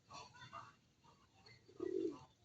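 Pigeons coo outdoors near water, soft murmuring calls early on, then a louder, rounded coo rising near the end over faint background noise.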